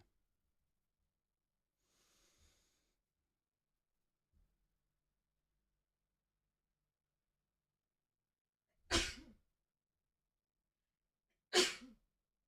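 Two sharp sneezes several seconds apart in an otherwise quiet room, with only faint breathing and small noises between them.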